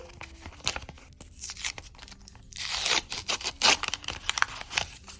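A handmade paper surprise packet being torn open and crinkled up close, with a burst of louder ripping and crumpling partway through, no voices.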